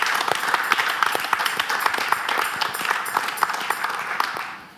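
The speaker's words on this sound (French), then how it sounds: "je souhaite que nous l'acclamons" Applause from an audience at a women's church choir event, a steady crowd clapping sustained throughout and fading slightly at the end, with a voice faintly present beneath.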